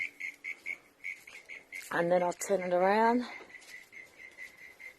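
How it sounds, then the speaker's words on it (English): Crickets chirp at night outdoors near a house deck, a steady run of short, evenly spaced high pulses going on throughout, moderately close, with someone briefly talking over them midway. "Hear the frogs? That's good. Actually, crickets."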